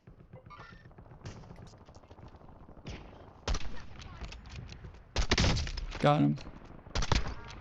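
Video game gunfire: scattered single shots, then louder bursts of rapid firing near the middle and end, with players talking over the action.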